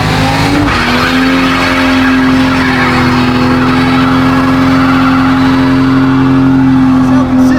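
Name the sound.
car doing a burnout in second gear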